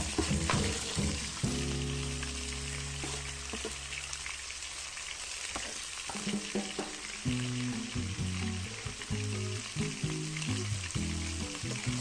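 Eel sizzles and crackles steadily in a hot pan as it is stir-fried, a continuous loud hiss with tonal clanks and scraping of the utensil running through it, no voices.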